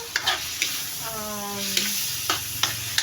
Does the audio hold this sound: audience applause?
no